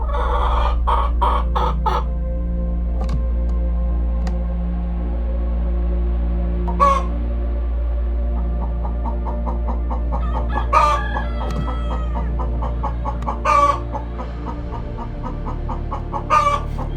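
A black copper Marans hen clucks in short, repeated bursts against a steady low hum, with a few louder squawks near the end.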